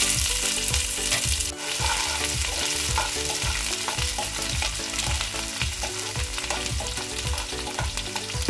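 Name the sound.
onion frying in oil with garlic and red chili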